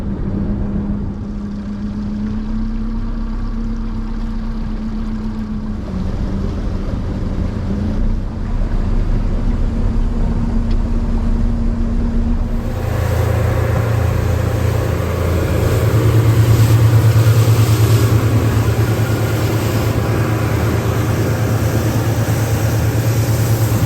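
A low engine hum runs throughout, then grows into a louder, rougher motorboat drone with wind and water noise as it gets underway on the Kenai Peninsula.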